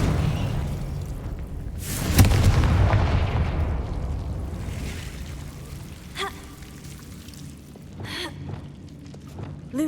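A Confringo fire spell blast from the Hogwarts Legacy video game erupts with a loud explosive burst, followed by a long rumbling decay, with a few fainter magical pings and whooshes trailing after it.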